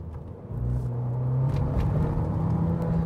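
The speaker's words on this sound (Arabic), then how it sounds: "يعني عم تسمعوه ضجيج المحرك، ضجيج الاكزوست، ضجيج الشارع، ضجيج الهواء" A 2018 Fiat Abarth 595 under way, its engine drone and exhaust note steady and close with road and wind noise, rising in level after the first half second and holding a low sustained tone.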